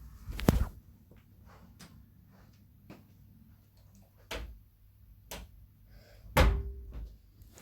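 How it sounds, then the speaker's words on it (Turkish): A door is pushed shut indoors, giving two sharp thumping knocks with a latch click between them. The sounds are spread across several quiet seconds with a faint room hum and no talking. "ben şimdi kapıyı kapatayım"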